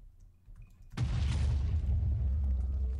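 A shot in a Minecraft battle royale game lands as one sudden booming blast after a near-silent moment, its loud rumbling tail carrying on for two seconds.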